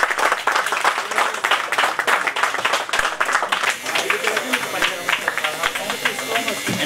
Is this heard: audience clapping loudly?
yes